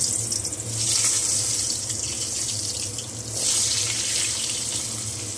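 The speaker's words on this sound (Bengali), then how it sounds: "মাছ ভেজে তেলটা একটু কমিয়ে নিয়েছে, এবারে আলুগুলো ছেড়ে দিচ্ছি।" Long-cut potato pieces slide into hot oil left in the pan after frying fish for a Bengali fish curry, producing a steady, loud sizzling hiss that swells twice and continues throughout.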